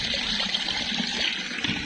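Water running steadily from a faucet, a close, even hiss and splash with slight gurgling and no voices.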